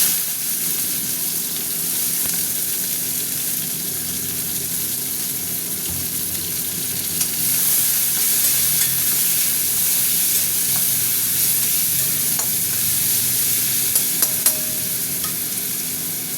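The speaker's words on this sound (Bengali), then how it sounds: "পেঁয়াজটা ভাজা হতে" Onions sizzle in hot oil with whole cumin and dried red chillies in a pan. A steady, close frying hiss runs throughout, with occasional stirring clinks and scrapes and no talking.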